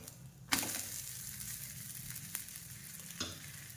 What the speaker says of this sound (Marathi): आपल्याला दोन्ही साईडनी छानपैकी खरपूस भाजून घ्यायचे आहे